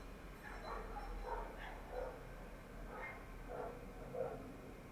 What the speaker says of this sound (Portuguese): tem umas cachorradas latindo lá fora